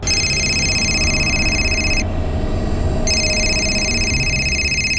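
A telephone rings with a steady electronic trill, pauses for about a second, then rings again, loud and close.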